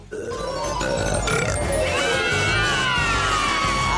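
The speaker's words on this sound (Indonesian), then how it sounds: "Dan sekarang, sendawa menjadi ciri khasnya." A loud, drawn-out burp after drinking cola, rising and gurgling in a rough, strained tone for most of four seconds and heard alone without talk.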